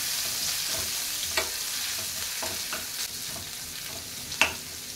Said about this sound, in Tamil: தட்டி வச்சுருக்க நம்ம போட்டு எண்ணெயில் வதக்கணும்